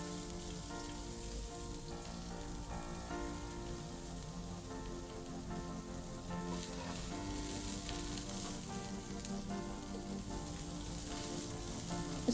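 Chopped onions frying in hot oil for a chicken and olive soup, a dense, even sizzle that crackles steadily up close without a break.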